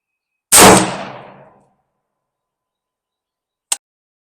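A single loud rifle shot cracks close by and rings out into a decaying echo, then silence, then a short sharp metallic tick about three seconds later, with no talking.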